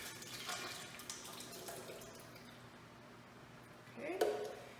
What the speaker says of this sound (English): Now we're going to take our soup and we're going to dump it into this blender jar.